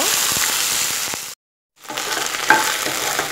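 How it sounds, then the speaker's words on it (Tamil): Sliced okra fries in oil in a pan, a close, steady sizzle with stirring scrapes, cut off by a short silent gap before the sizzling resumes. "வெண்டைக்காய் வந்து நம்ம லைட்டா ஆயில்ல ஃப்ரை பண்ண போறோம்."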